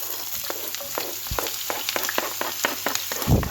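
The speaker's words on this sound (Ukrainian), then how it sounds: "Спочатку відправляю цибулю." Onion frying in a pan for a cabbage-and-apple crepe filling, a steady close sizzle with rapid rhythmic scrapes of a spatula and a louder clatter at the end.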